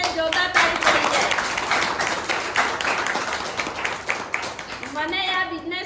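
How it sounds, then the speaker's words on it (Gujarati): Loud applause from an audience at a business achievers' event, dense clapping filling the whole stretch with a few voices calling out over it. "જોરદાર તાળી પડી જાય"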